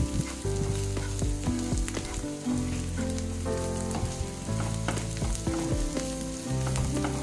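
Boiled eggs frying in a pan with coriander powder and turmeric, a steady close sizzle with spatula stirring scrapes throughout, no talking.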